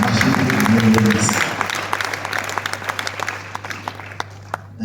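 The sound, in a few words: applause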